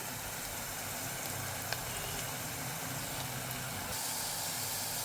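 Chopped onion sizzles steadily in a hot pan while browning for a Konkani-style prawn and potato curry, a continuous close frying hiss with no break.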